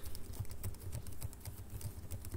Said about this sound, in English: Now, keyboard strokes.